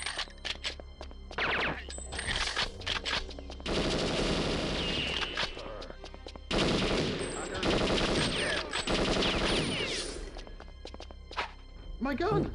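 Sustained bursts of rapid automatic gunfire from a weapon in the Perfect Dark PC port, loud and close, with sharp single shots between long rattling volleys and someone talking over the action.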